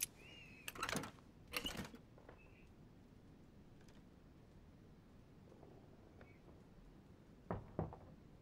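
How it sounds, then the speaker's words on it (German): Knocking in The Council video game, a few clustered raps in two quick bursts early on, then a quiet stretch and another pair of knocks near the end, moderately close with no talking. "er hört auch nicht auf zu klopfen, ne?"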